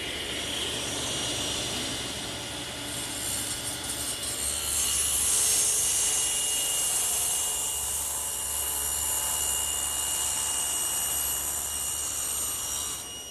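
A saw cuts steadily through a wooden board for a bookcase, producing a continuous rasping sound at moderate volume with no pauses and no voices.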